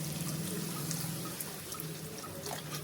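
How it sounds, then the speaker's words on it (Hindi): Water poured into a pan of fried spices for a jackfruit kofta curry makes a steady, continuous pouring and bubbling wash that holds at an even level for a few seconds, close by, with no talking. "तो मसाले अच्छे से भुनने के बाद हम इसमें पानी डाल देंगे।"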